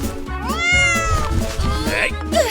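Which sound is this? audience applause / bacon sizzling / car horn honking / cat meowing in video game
cat meowing in video game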